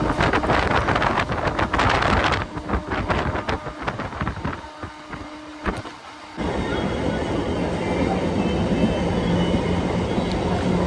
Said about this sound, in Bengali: ট্রেন এই মুহূর্তে ব্যারাকপুর রেলওয়ে স্টেশন ছেড়ে বেরিয়ে যাচ্ছে।